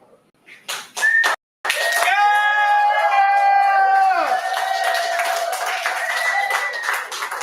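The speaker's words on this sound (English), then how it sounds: "Keep that round of applause for us," A poetry slam audience at the Berkeley Slam cheers after a performance, with loud sustained whoops and high voiced cries over clapping that start abruptly, swell and hold steady for several seconds.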